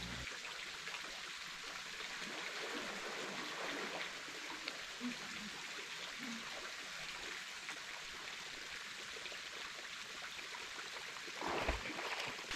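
A small waterfall and stream at a natural pool in central Trinidad make a soft, steady rushing and trickling, fairly faint and continuous, with a brief bump of handling noise near the end.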